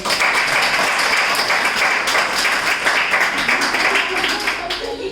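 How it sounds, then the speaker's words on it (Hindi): Dense applause from an audience at IIT Patna, loud and sustained, with many hands clapping at once and a murmur of voices mixed in. "बहुत बहुत तालियां हैं"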